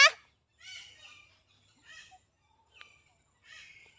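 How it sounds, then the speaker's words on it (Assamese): Several harsh bird calls ring out in separate bursts, fairly clear against a quiet background, one loud call at the start. "ওপৰত চৰাইবোৰে কথা পাতি আছে।"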